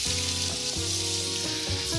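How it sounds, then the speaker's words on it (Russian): Meat sizzles in a frying pan after cream has been added, a steady, close bubbling hiss with faint stirring and no talk. "Сейчас я добавляю сливки. Все это будет доходить в сливках."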